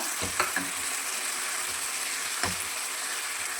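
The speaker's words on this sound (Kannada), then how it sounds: "ಇವಾಗ ಹುಣಸೆ ರಸ ಹಾಕ್ಕೊಳ್ಳಿ" Tamarind juice hits a hot pan, giving a steady, close sizzle broken by a couple of brief clinks from a utensil.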